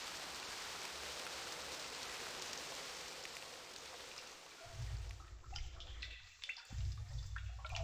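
Steady rainfall in the Stoneship Age of realMyst: Masterpiece Edition, a soft continuous hiss that thins partway through as low rumbling ambience rises beneath it.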